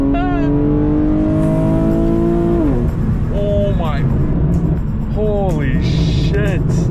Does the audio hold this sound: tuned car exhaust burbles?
yes